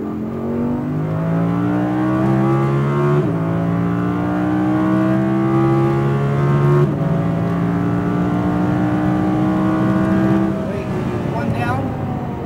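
Audi R8 V10 RWD at full throttle on a race track, its engine note climbing through several gears with clear upshift breaks, loud and close from inside the car, with a voice talking over it.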